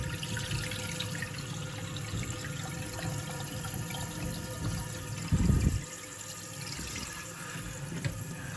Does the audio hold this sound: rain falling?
no